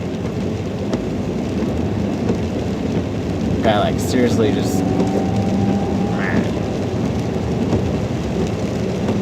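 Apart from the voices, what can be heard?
rain and thunder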